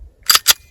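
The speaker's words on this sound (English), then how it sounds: "let's put some of these downrange in my SIG P250 for 40 Smith & Wesson" A SIG P250 pistol chambered for .357 SIG fires two sharp, loud shots in quick succession about a fifth of a second apart, each cracking with a brief tail and no talk.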